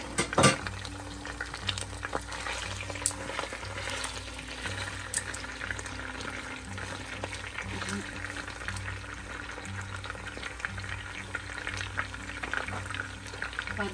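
Fried chicken thighs for an oyster sauce dish crackle and sizzle in a pan, a steady frying hiss with occasional pops and stirring or pouring noises close by.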